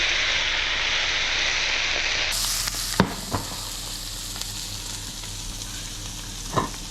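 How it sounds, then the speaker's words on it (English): Onions sizzle steadily in a hot pan for a creamy white wine sauce, a dense continuous frying hiss that shifts slightly midway, with a few sharp utensil clinks and scrapes over it. "You want to soften and brown those onions."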